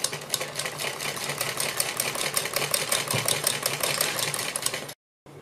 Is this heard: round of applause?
no